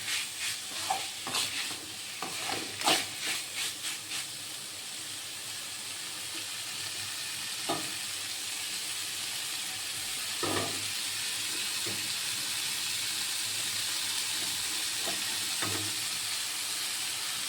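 Cluster beans sautéed with onion and tomato in a pan: a quiet, steady frying hiss, with a few spatula scrapes and clinks early on and occasional soft taps later, no voices.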